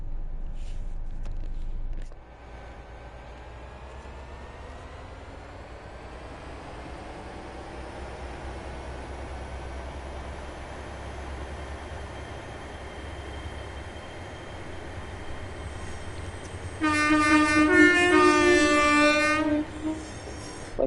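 A Great Western Railway IET, unit 802-104, runs in Train Sim World 6 on the Riviera Line: steady rail rumble and rising traction hum, with a loud horn-like tonal blast near the end.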